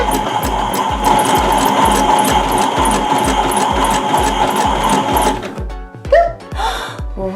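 A toy washing machine spins after its power button is pressed: a steady motorized whir with a fast, regular thumping beat, up close, then rattling handling noises as it winds down.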